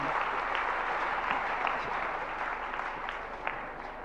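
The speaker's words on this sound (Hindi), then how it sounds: "जोरदार तालियों के साथ" Loud, dense audience applause at a Jain religious gathering fills the whole stretch steadily, with no voices rising above it.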